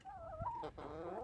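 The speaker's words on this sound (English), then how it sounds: "Another thing we're doing is we're raising chickens." Backyard chickens, including Barred Rocks and Buff Orpingtons, clucking softly in a short burst of several close, quiet calls with no talk.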